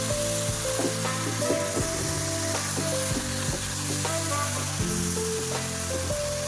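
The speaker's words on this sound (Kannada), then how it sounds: "ಇವಾಗ ಎಲ್ಲ ಒಂದ್ಸತಿ ಮಿಕ್ಸ್ ಮಾಡ್ಕೊಳ್ತಾ ಇದ್ದೀನಿ." Country chicken fry sizzles steadily in a hot pan while it is stirred, with scattered scrapes and clinks of the spoon against the metal, loud and close throughout, with no voices.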